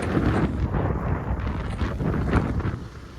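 Steady, loud hot wind buffeting a microphone, a continuous rumbling roar without pauses throughout.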